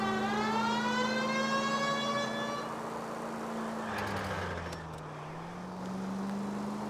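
Police car siren in the LA Noire video game, a rising and falling wail over engine drone, fairly faint, with the pitch sweeping down and settling as the car moves on.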